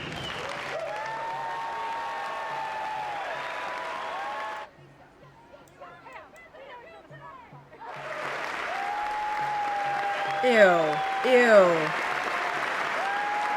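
A packed chamber in the U.S. Congress applauds Netanyahu with steady, dense clapping. A brief quieter stretch follows, then the applause swells again with a few loud peaks. A voice speaks faintly under the clapping.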